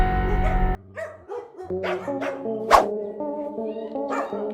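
Dogs bark and yip in a shelter, with a loud sustained burst at the start followed by a string of separate barks and whines of varying pitch, fairly close and echoing.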